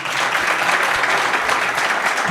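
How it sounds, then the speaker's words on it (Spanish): Audience applause in a Spanish talk-show studio, a dense continuous wash of clapping held at an even, loud level throughout the short burst. "Esto se merece un aplauso"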